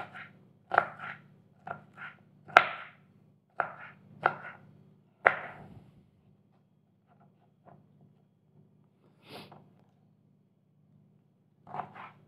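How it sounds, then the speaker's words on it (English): A knife chops through an onion on a board in a quick run of sharp, close thuds, then pauses before a few more scattered cuts. "we're going to have to chop our onion up."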